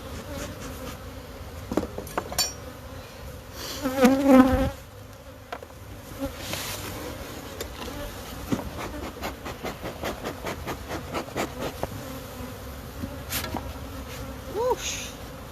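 Honey bees buzz around their hives outdoors, a steady insect drone with occasional louder passes as individual bees fly close, plus a few brief rustles and a burst of noise midway.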